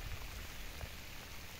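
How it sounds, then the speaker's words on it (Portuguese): Heavy rain falls outdoors on a mountain range, a steady dense hiss of drops that stays even and fairly faint throughout. "Agora tá chovendo, viu?"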